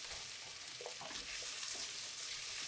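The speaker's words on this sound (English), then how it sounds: "We're just trying to get these onions to caramelize, release their sugar content." Onions sizzle in a hot pan as they cook toward caramelizing for Japanese curry, a soft continuous crackle and hiss with faint stirring scrapes, close but fairly quiet.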